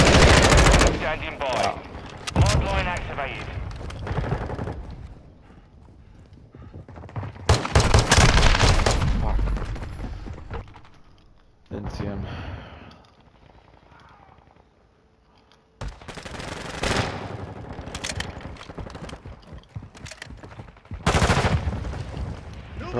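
Bursts of rapid automatic gunfire in a Call of Duty: Modern Warfare II match, loud and close, coming in several separate volleys with quieter gaps between them and some talk mixed in.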